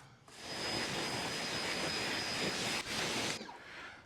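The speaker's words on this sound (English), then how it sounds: "you can go ahead and grab your power washer and give it a rinse." A power washer sprays water onto a truck tire, giving a loud, steady hissing rush that starts after a short pause, cuts out briefly near the end and then stops.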